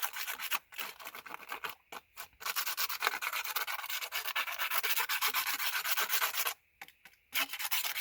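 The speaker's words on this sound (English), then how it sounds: "use the little brush that comes as a take your pick tool attachment, and just kind of scrape it off" A small brush scraping excess gilding leaf off a stamped Wild Roses image, a steady close dry rubbing and brushing that runs in sustained strokes with brief pauses between passes.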